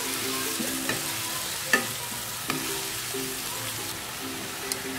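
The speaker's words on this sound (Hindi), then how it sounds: "अब मैं इसको हल्के हाथ से मिक्स करूंगी ऑयल में" Minced meat sizzles steadily in oil while a spoon stirs it gently, with a few soft scraping knocks against the pan over a continuous close frying hiss.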